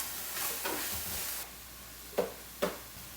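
Red onion frying in oil in a pan for a quick home-made sandwich filling, a steady sizzling hiss with a couple of short stirring scrapes near the end, close and alone.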